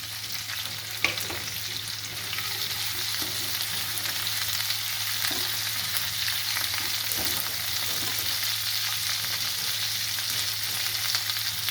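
Onion frying in a pan for a dosa chutney, giving a continuous, even crackling sizzle that stays close and steady throughout, with a low constant hum beneath and no voices.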